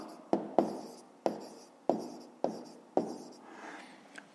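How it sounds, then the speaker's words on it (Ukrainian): A pen or pencil writes by hand on paper while a math exercise is worked out, giving several sharp taps and scratchy strokes in a steady rhythm, close and clear, with no talking. "Записуємо тоді Олеся"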